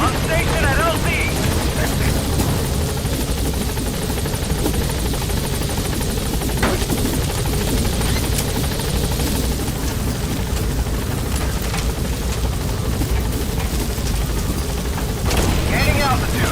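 A Speed Quad helicopter in Metal Gear Solid V arrives at a landing zone, its rotor roaring in a steady, loud, continuous wash, with a radio voice and some thuds layered over it.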